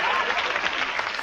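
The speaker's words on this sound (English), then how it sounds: "How about some applause?" Steady applause from a crowd, dense clapping that stays loud and even throughout, with faint voices mixed in.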